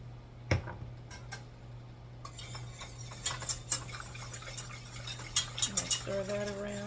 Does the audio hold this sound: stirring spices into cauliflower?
yes